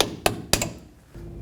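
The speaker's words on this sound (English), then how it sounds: "Hammer that back in place." Two sharp metallic hammer blows, about a quarter second apart, seat the wheel hub dust cap on a 2007-14 Chevy Silverado front knuckle during repair, followed by a quiet low hum.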